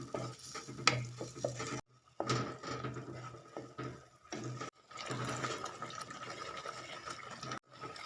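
Red chili balado sauce stirred in a pan while its water cooks off and oil separates, giving a continuous wet scraping and sizzling with a few utensil clinks, broken by short pauses.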